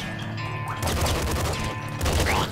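Rapid SMG gunfire from the Nuclear Throne video game rattles continuously in dense bursts, loud and close, with crunching impact sounds layered over the shooting.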